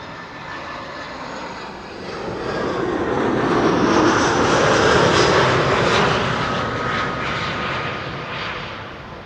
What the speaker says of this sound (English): This is Lufty flight 2302, an A319 arriving from Munich